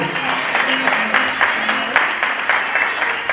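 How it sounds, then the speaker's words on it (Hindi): Audience applause at a Guru Purnima gathering, a dense, steady wash of many people clapping throughout, with faint voices mixed in. "एक बार फिर से लोगों का तालियों से स्वागत हो"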